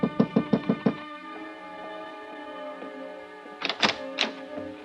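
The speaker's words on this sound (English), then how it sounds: "then I knocked on her door" Knuckles rap on a hotel room door in a quick run of five sharp knocks, then a second, shorter burst, set against a sustained musical backdrop in an old radio noir drama.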